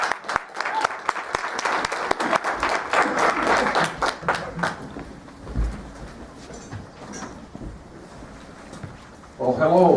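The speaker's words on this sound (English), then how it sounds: "So let's give him a round of applause to welcome him." An audience at a university conference on social responsibility claps loudly to welcome a meteorologist speaker, the dense applause fading out over a few seconds before he begins talking at the end.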